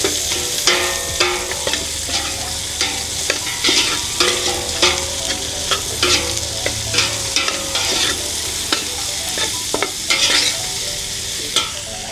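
Carrots stir-fried in a pan for pancit bihon, a constant loud sizzle with frequent sharp scrapes and clacks of a utensil tossing the pieces in a steady rhythm, close up and without talk.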